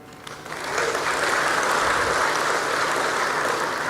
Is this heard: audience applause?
yes